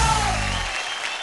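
Studio audience applause for a children's dance performance on a televised dance competition, broad loud clapping washed together with a fading musical tone at the start.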